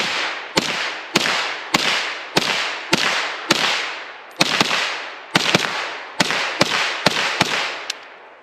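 A KelTec Sub2000 Gen3 9mm carbine fires a long string of sharp, loud shots outdoors, roughly two per second with a few quick doubles, each crack trailing off in a short echo.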